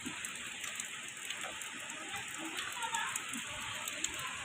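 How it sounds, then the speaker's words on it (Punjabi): Heavy rain falls steadily in the mountains, a dense, even hiss that fills the whole stretch with no break, with faint patter and no voices. "ਅੱਜ ਬਹੁਤ ਜ਼ਿਆਦਾ ਮੀਂਹ ਪੈਣ ਲੱਗਿਆ ਹੈ ਜੀ"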